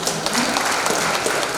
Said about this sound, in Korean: 김영선 교수님께 다시 한번 뜨거운 박수 부탁드립니다